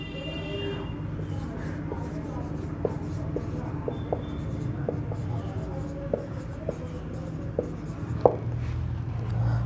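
A teacher writing an example sentence on a board for an English adverb lesson, steady scratchy strokes with small taps running throughout, close, over a constant background hum.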